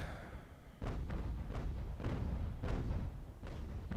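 Ship cannons fire broadsides in the age-of-sail naval game Ultimate Admiral: Age of Sail, a run of about six dull, heavy booms spaced roughly half a second apart, moderately loud over a low rumble.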